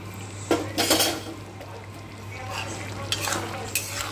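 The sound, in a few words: stirring long bean and potato curry with garam masala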